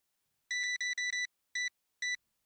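A cash register in the video game TCG Card Shop Simulator gives six clean electronic beeps, four in a quick run and then two spaced apart, clear and alone against silence.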